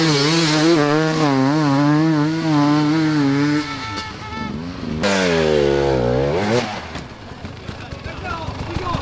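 An enduro motorcycle engine revs hard nearby at an extreme enduro race in the Czech Republic, with rising and falling throttle sweeps, a brief drop, then another strong climbing rev before it settles.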